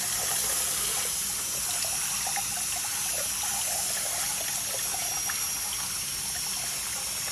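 Water drains slowly from a clogged sink in a steady, even rush and trickle that holds at the same level throughout, with no talking.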